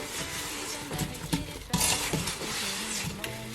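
A spoon scrapes and clinks through an apple cobbler filling as a cinnamon sugar mixture is stirred in, with irregular knocks against the bowl, close and moderately loud.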